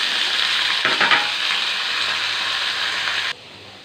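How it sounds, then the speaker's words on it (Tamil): Diced potatoes fry in hot oil, giving a bright continuous sizzle broken by scraping stirs of a utensil. The sizzling drops off abruptly near the end. "அதையும் எண்ணெயில் போட்டு நல்லா எண்ணெயிலே வதக்கும்."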